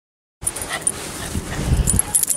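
Several small dogs yip and bark in quick, overlapping bursts during a holiday stay, with a person talking over the commotion close by.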